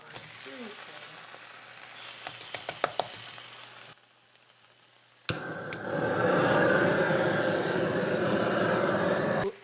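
A chuck roast sears in a hot pan, a steady loud sizzle that bursts in after a few clicks and a brief quiet pause.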